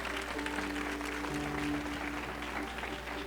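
A church congregation claps steadily throughout, applauding God during a sermon, with sustained organ-like music tones sounding underneath the applause.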